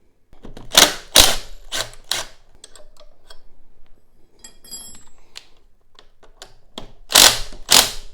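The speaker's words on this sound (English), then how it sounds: "So now I'm going to remove the crank" Clicks, ratchet-like ticks and sharp metallic knocks come from removing the crank of a fat e-bike, close and irregular, with louder bursts at the start and end.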